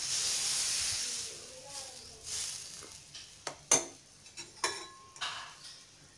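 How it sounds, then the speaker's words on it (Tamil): Carrot and onion adai dosa batter hits a hot pan, giving a broad hiss that fades into soft sizzling with scattered sharp ticks and pops, fairly quiet and close. "நம்ம கேரட்டு வெங்காயம் கலந்து வச்ச மாவில் ஒரு தோசை ஊற்றிடலாம்"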